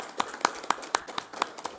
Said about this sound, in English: It's an unusual sound, so that we clap the hands.